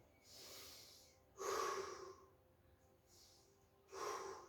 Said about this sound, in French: Et nous faire 5 grandes respirations.